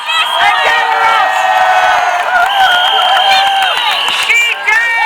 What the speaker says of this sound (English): Give her a massive round of applause and get her up.